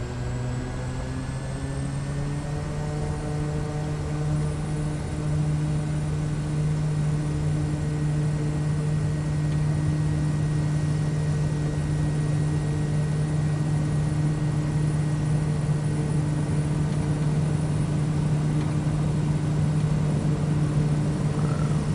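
A simulated Kodiak 100 single-engine turboprop at takeoff power in Microsoft Flight Simulator 2020, a loud, steady, unbroken drone with a strong low tonal hum and layered higher whine throughout, no voices.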